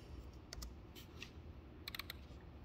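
A command typed on an Acer Helios 300 PH315-54 laptop keyboard with a Core i7 11800H: a few quiet keystrokes, scattered then clustered in a quick run near the end, with no talking.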